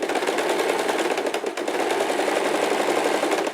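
A sewing machine stitches a cami top, running in one fast steady whirring rattle at close range with only a brief dip midway.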